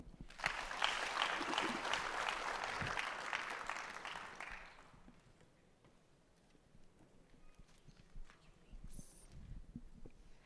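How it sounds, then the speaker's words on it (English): Conference audience applauding in a hall, dense clapping for roughly the first five seconds before fading into quiet room noise, with faint scattered sounds afterward. "Another round of applause for our DG."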